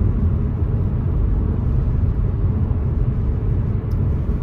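A 2011 Honda Civic 1.8L i-VTEC Si five-door hatchback with a six-speed manual drones in a low, steady rumble while driving in a video game, engine and road noise constant, with no talk.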